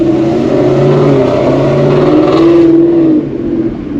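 Ford S550 Mustang with catless long tube headers and a ghost cam tune revs hard nearby, a loud, choppy lopey exhaust note climbing in pitch before dropping off near the end.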